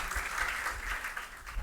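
A church congregation claps together during a Sunday service, a steady wash of moderately loud applause with no clear individual beats, heard at some distance throughout.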